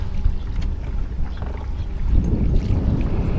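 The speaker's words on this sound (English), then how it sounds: "And it is pretty windy out here." Steady wind rumbles against the microphone on a kayak out on open water, a loud low buffeting that grows stronger partway through.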